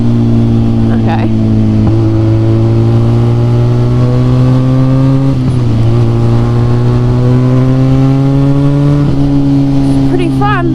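A Harley-Davidson X350 motorcycle revs hard and accelerates on a hilly road, its engine note climbing steadily through several gear changes, loud and close throughout with steady wind noise.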